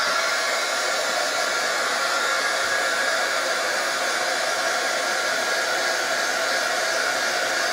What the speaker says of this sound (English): I'm holding the heat gun about 3 inches from the acetate